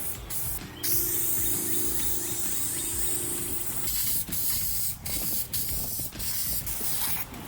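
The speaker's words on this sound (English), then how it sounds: "I got 1 coat of filler primer on it" Filler primer is spray painted onto a pickup truck bumper in short and long close hissing bursts, separated by brief pauses and can rattles, with no talking.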